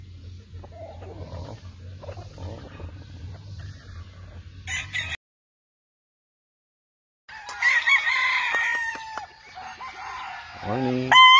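Vanilla Grey gamefowl roosters on a farm in Claveria, Philippines, clucking low and steady before a pause, then several loud crows overlapping from different birds, near and far.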